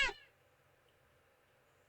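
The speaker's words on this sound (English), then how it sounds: "The cat sounds annoyed with you." Short annoyed meow from a cat in the video game Do Not Take This Cat Home, a single clipped cry at the start that stops quickly and leaves quiet room tone.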